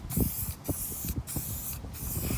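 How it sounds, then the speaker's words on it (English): Protectant is sprayed onto the plastic body panels of a 2001 KX100 dirt bike during a restoration: close, loud hissing aerosol bursts separated by three brief pauses, with no talking. "Spraying them to bring them back to life"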